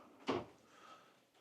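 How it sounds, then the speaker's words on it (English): A kitchen trash can drawer in a luxury Nashville home slides shut with a single soft thump and brief rumble, followed by quiet room tone. "Another trash can drawer."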